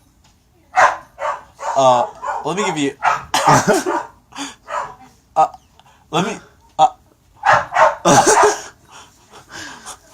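Dogs bark from an upstairs room, with short muffled barks mixed beneath a person talking close by in bursts throughout.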